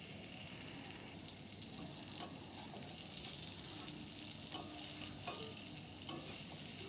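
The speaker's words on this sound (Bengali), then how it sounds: "ডিম ভাজা হয়ে যাওয়ার পরে আলুটাকেও ভেজে নিলাম একটু লবণ দিয়ে।" Potatoes frying in oil with a little salt, a steady close sizzle with faint stirring clicks running evenly throughout, no voices.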